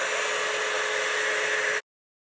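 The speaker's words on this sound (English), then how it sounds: "Pick this bitch up and let me start blow drying." Hair dryer blowing hair during a blowout, a steady close whooshing roar that runs evenly, then cuts off abruptly into silence.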